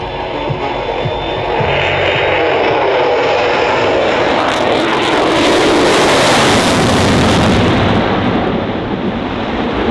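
A RAAF F-35A fighter jet roars past at an airshow display, its loud, broadband engine noise swelling and building as it accelerates, a continuous thunderous rumble with no speech.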